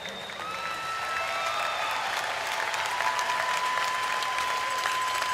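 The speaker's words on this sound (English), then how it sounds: "at least he got some claps from the audience." A crowd at a bull riding event claps steadily and loudly, the dense applause building slightly and holding for several seconds.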